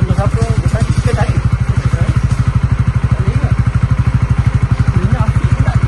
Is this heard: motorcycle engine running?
yes